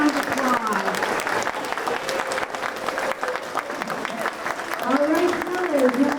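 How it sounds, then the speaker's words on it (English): An audience at a school storytelling festival gives the storytellers sustained applause, a dense wash of clapping that swells and fades with some voices mixed in. "Give them another round of applause."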